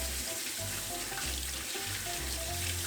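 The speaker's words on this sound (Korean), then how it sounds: "그리고 물로 깨끗하게 씻어 놓습니다" Peeled onions rinsed under running water in a kitchen sink, a steady splashing wash with low gurgling bursts, close and continuous with no voices.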